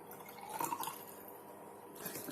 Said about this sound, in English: So I am going to pour it to a test tube.